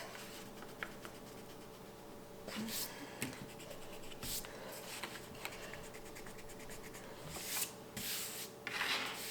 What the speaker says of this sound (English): I can erase these extra bits.